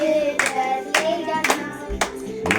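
Birthday party guests clap in bursts, five sharp volleys of applause with short pauses between them, fairly close and loud, with no talking over it.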